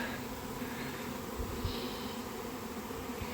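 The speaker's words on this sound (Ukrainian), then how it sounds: "Такий шум на криші. Бджолки збираються." A dense, steady buzzing of a honeybee swarm gathering on a roof, heard from inside a small house, a constant swarm hum with occasional faint knocks, no voices.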